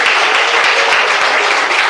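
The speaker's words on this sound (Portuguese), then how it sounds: "Palmas de glória a Jesus." A church congregation claps in praise of Jesus during a worship service, a brief dense burst of continuous clapping, loud and close, with no voices on top.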